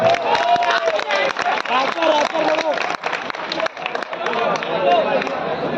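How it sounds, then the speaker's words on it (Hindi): Audience applause at a mushaira, a Hindi-Urdu poetry gathering in Kamthi, with dense clapping and crowd noise mixed under a poet's voice continuing to speak and recite over it. "जोड़ा ताली बजाइए फिर बजाओ।"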